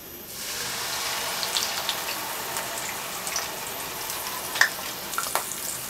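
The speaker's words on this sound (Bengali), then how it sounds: "মশলাগুলোকে হালকা করে একটু ভেজে নিলাম এখন এখানে দিয়ে দিচ্ছি এক কাপ পেঁয়াজ বাটা" Spices and onion paste frying in a pan, giving a steady close hiss and sizzle with faint crackles and one sharp pop, and no talk.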